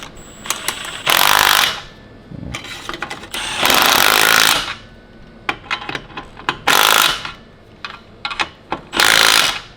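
A power tool tightening exhaust X-pipe bolts under a Maserati MC: four loud, harsh bursts of rattling impact hammering, each a second or so long, separated by clicks and handling noises.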